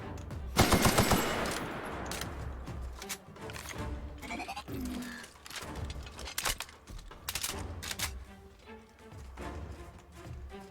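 Gunfire in the video game The Outer Worlds, with bursts of rapid shots and scattered single cracks across the clip. The firing is loudest near the start, then comes in uneven clusters.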